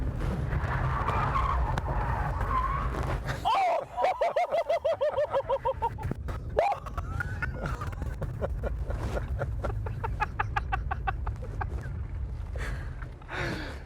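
Car tires screech and skid loudly as a stunt driver accelerates hard and whips a J-turn, a long squeal with rapid pulsing chatter toward the end, engine noise throughout and little talk.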